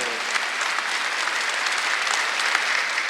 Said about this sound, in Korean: 감사한 박수 한번 치세요.